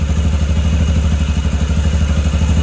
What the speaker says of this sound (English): Oh, that clutch is so loud.